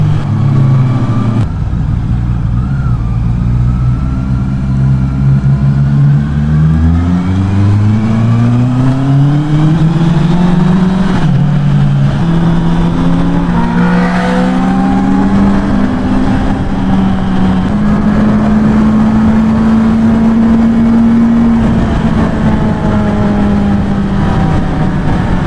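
A Honda CB650R E-clutch motorcycle engine accelerates loudly and close up, the pitch climbing steadily through smooth, clean gear changes before settling into a sustained high drone.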